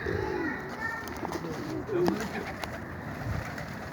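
Soft, low pigeon coos sound close by amid background chatter and light ambient noise.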